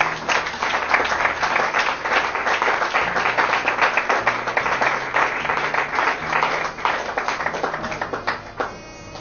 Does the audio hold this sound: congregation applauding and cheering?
yes